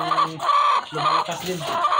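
Chickens cluck in short, overlapping bursts close by, with a brief quiet gap midway before the clucking resumes.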